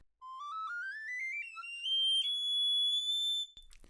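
A tiny recorder plays a very high, piercing rising run of notes, then holds a shrill steady tone before cutting off.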